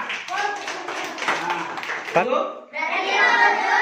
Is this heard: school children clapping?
yes